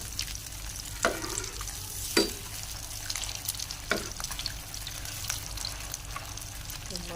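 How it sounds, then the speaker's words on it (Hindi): Chicken spring rolls fry in oil over medium heat, a steady close sizzle and crackle with a few sharp clinks of a utensil against the pan and no voices. "आँच हम हल्की कर देंगे, थोड़ी सी मीडियम आँच से फ्राई करेंगे।"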